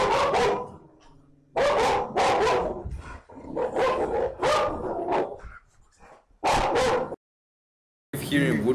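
A pit bull barks in several loud, close bursts separated by short pauses, with some quieter whimpering and yipping between barks.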